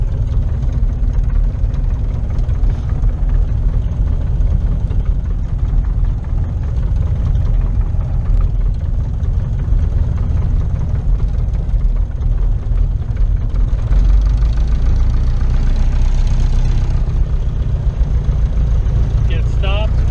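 Light aircraft engine running on the ground during a run-up, a steady low droning rumble that holds evenly throughout, with a voice talking over it.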